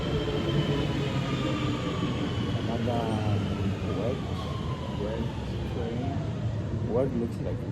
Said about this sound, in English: Another wet train.